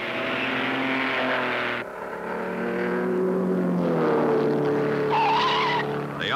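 Cisitalia race cars built on Fiat parts racing near Cairo, with engines whining and tires squealing as cars sweep past, a loud rising-and-falling drone with sharp changes in pitch.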